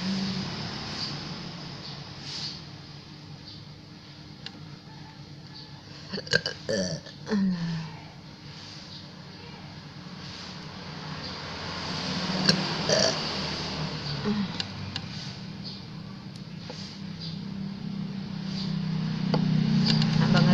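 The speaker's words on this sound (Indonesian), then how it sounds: "Itu gede banget tuh anginnya tuh keluar." A person with nausea and a stomach upset lets out several burps, a couple of short loud belches midway and a long deep one near the end, against a quiet background.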